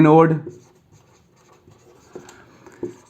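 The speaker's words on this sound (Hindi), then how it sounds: "तो चलिए लिखते हैं इक्वेशन" Pen or marker scratches out a chemical equation for electrolysis at the anode during a chemistry lesson, in faint, sparse strokes after a brief loud vocal sound at the start.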